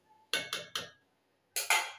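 A metal lid set onto a pot of chicken curry: three quick clattering clinks in a row, a pause, then two more ringing metallic knocks, close and sharp with no voices.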